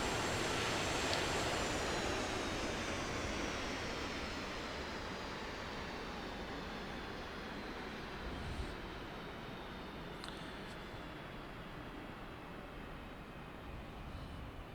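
A Sukhoi Su-25T Frogfoot jet engine in the DCS flight simulator video game, a steady loud roar that slowly winds down in pitch, with a faint whine above it and a few brief clicks, without any talking.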